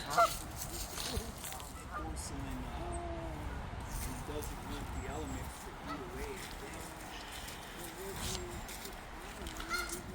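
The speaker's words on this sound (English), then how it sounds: "Geese. More geese. Lots of geese." Many geese honk continuously in a large flock at a cemetery in Chicago, loud and close, with people talking underneath and traffic-like background noise.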